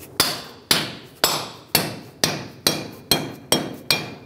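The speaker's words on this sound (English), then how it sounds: "take a rubber mallet, not a steel hammer, because it'll damage this surface, and tap it in" Eight evenly spaced taps of a rubber mallet seating a wheel seal on a Toyota 4Runner, firm and close, each with a brief ringing decay, steady rhythm and no talking.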